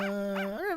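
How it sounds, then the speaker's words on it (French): A dog in the Phoenix Wright: Ace Attorney – Spirit of Justice video game lets out a single short, close, whining bark-howl with a rising and falling pitch. "C'est mon chien, Shadow"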